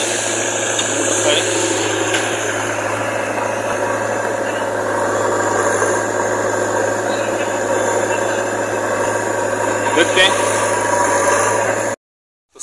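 A JCB excavator engine runs steadily at a roadside landslide site on a hill road, a continuous mid-to-low rumble with vibration holding throughout before cutting off at the end, with someone talking over it.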